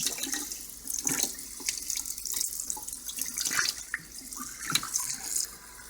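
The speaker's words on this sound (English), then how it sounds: "And then I put it in a strainer. And then I rinse it a little more." Sauerkraut is rinsed in a strainer under a running tap, water splashing steadily and fairly close for the whole stretch with irregular spatters and drips, no voices.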